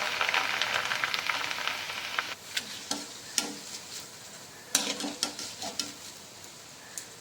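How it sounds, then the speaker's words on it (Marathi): Corn poha fry in very hot oil for chivda, a dense, steady sizzle for the first couple of seconds that then drops to quieter frying with sharp scattered clicks and taps of stirring. "कडकडीत गरम झालेल्या तेलामध्ये तळत आहे"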